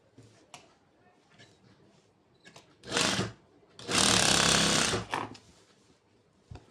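A sewing machine joins the front and back panels of an umbrella-style top in two loud, sustained bursts, a shorter run followed by a longer one, separated by quieter handling noises and soft fabric movement.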